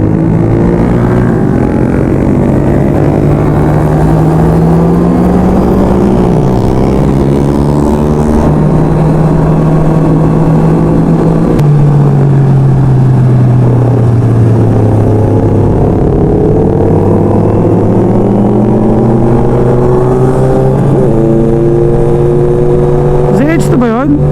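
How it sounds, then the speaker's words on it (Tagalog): Loud, steady Kawasaki big bike engine exhaust roar with rising and falling revs, continuous and close throughout, drowning out everything else, on a group ride. "Dahil ingay ng mga muffler"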